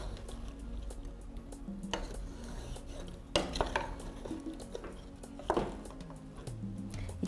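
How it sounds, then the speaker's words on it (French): Cordon bleu mixture stirred in a pan after water is added, with a spoon scraping and clinking against the metal, soft simmering underneath and a few sharper knocks. "On mélange bien."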